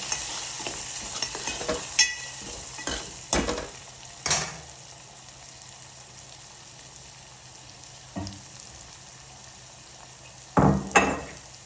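Tomato and spice curry with onion greens being stirred in a pan, giving repeated spoon knocks and scrapes at irregular intervals over a low, steady sizzle, close and fairly clear.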